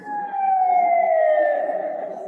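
An ambulance siren wails in one long, loud, slowly falling tone, close by and without other sounds.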